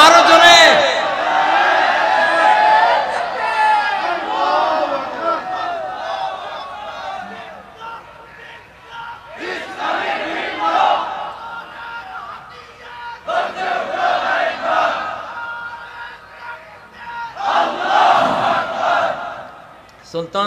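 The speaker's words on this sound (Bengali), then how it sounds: "আমাদের স্লোগান হলো নারায়ে তাকবীর। জোরে, আরো জোরে," A large crowd at an Islamic waz gathering chants the slogan Nara-e-Takbir. Several loud, full-throated bursts of collective shouting rise and fall in turn, with brief quieter gaps between them.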